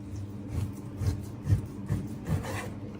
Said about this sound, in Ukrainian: Подивіться, як зараз буде ніж різати.